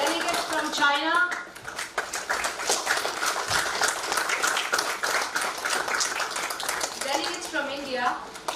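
Delegates from Bangladesh, Bhutan and China are greeted with crowd applause at the inauguration of the Kathmandu Dialogue, a continuous wash of clapping that holds throughout, while voices can be heard speaking near the start and again near the end.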